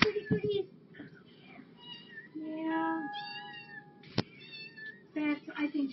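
A cat meows repeatedly at morning feeding time, several clear, close calls rising and falling over a background of shuffling and voices, with a sharp knock partway through.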